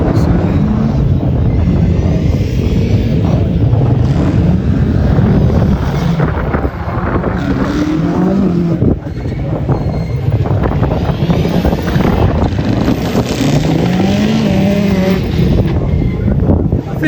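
Group B rally car with a big turbo at a Race Retro historic rally event, a loud, sustained engine roar with turbo whoosh and wind buffeting on the microphone, while people talk nearby.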